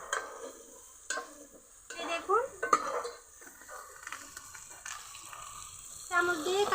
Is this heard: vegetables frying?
yes